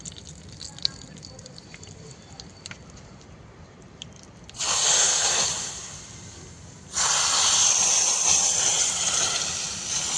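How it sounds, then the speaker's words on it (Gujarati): Hot vaghar tempering poured onto wedding-style dal, giving two bursts of loud, close sizzling hiss, the second longer and sustained, after a quieter stretch of faint drips and crackles. "પછી જે આપણો આ જોરદાર વઘાર છે તે ઉપર રેડવાનો છે"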